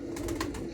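Pigeons at a pigeon market, including Oman Teddy birds, give a short, soft, low coo that lasts under a second and sounds faint and close.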